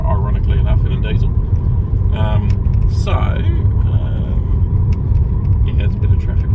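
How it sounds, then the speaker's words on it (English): Cars drive past on a town road in Alice Springs, heard from inside a moving vehicle as a steady loud rumble with passing swells, while people talk over it. "Yeah, there's a bit of traffic on this road."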